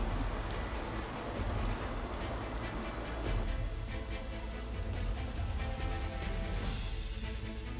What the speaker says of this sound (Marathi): नवी मुंबईतही मुसळधार पाऊस बरसलाय